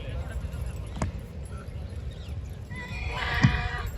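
A horse neighs once, loud and close, in a show ring at a horse show in Jodhpur, against a steady background of crowd noise and a brief thump.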